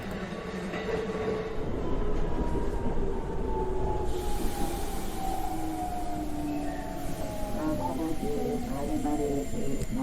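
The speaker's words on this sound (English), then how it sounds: "began to slow as the train drew nearer to the station" Train slowing on its approach to a station: a continuous loud rumble of wheels on rails with long steady whining tones that slide gradually lower, heard from inside the carriage with no talk.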